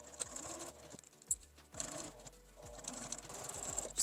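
A sewing machine back stitching a fabric glasses case runs in short bursts of rapid mechanical whirring, pausing between passes as the stitching direction reverses, close and clear with no talk.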